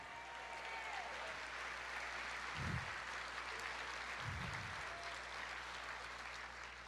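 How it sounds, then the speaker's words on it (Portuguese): A church congregation claps through a Bible study service, a dense, continuous wash of applause from a large crowd, steady and even throughout with a couple of low thumps. "Aplauda mais."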